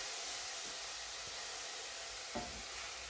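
Meat and bacon sauté in a pan, giving a faint, steady sizzle with a couple of brief scraping stirs near the end.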